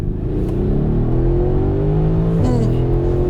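A Mercedes-AMG GLC 63 S SUV at full throttle, its engine roaring loud and steady from inside the cabin, pitch climbing through the revs with a brief shift dip before pulling on.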